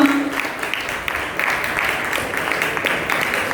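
A crowd at a felicitation ceremony applauds in a continuous, fairly loud wash of hand-clapping that holds even for several seconds.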